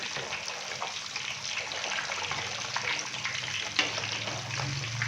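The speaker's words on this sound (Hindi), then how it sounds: "तो मीडियम फ्लेम पे हम इसको फ्राई करेंगे।" Rohu fish fries in a pan over a medium flame, giving off a steady, close, hissing sizzle that stays even throughout with no talk.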